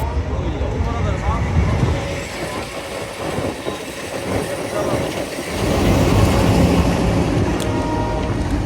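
Nakshikatha commuter train hauled by locomotive 6519, packed with Eid holiday passengers, rumbling steadily nearby with a continuous broadband roar that swells toward the end, voices mixed in.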